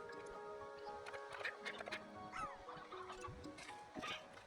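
Chickens cluck and squawk in the video game Slime Rancher 2, several short, faint, overlapping calls over a steady low hum of game ambience.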